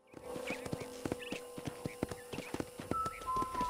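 Horse galloping in the video game Red Dead Redemption, a fast, regular clip-clop of hooves with a snort near the end, set over faint game music tones.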